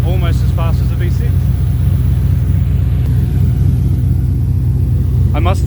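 A car engine with many cylinders idles at a steady, deep rumble, held close and loud throughout, with voices talking over it at the start and end.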